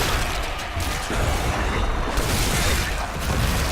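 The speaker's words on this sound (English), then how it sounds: "I like how you make your squishy explosions." Dense, rumbling bursts of Necromancer explosions in Diablo 3: Reaper of Souls roll on continuously, loud and crackling with a steady low boom underneath.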